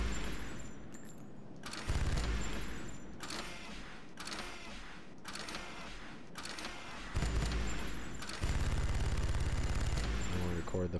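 Minigun in a Call of Duty game spinning up and firing, a dense sustained roar broken into long bursts, loud with brief gaps, no talk.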